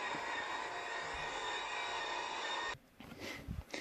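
Boeing 737-800 engines at full takeoff power in Flight Simulator X give a steady, loud jet roar that holds evenly, then cuts off abruptly near the end, leaving softer, uneven noise.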